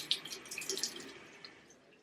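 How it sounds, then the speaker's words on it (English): Tap water running briefly to wet a lead test swab at a kitchen sink, a soft close splash and trickle with a few small drips, no talking. "All right, so I'm going to wet it with water"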